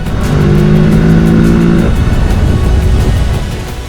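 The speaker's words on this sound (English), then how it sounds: "cruise in the 6th gear with more and enough torque on tap, just above 4000 RPM for those quick dash overtakes" A Kawasaki Z650 BS6 motorcycle accelerating on a highway in sixth gear just above 4000 RPM, its engine a loud, steady rising drone with strong wind rush, heard close and alone.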